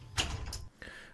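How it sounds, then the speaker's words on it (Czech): Front doors of a tram in a tram simulator game closing, a quick mechanical slide and thump followed by a faint tone, close and brief. "takže si zavřu přední dveře"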